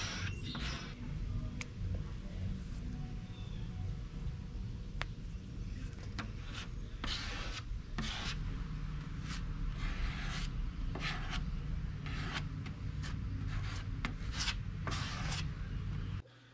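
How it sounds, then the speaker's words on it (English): A credit card scrapes grain filler across the grain of a wooden surface, giving faint, irregular scratchy strokes in short bursts over a quiet background. "use a credit card to scrape it across the grain"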